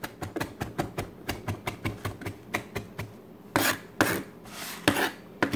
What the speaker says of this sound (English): Trying to get it just fine. Kind of mincing it.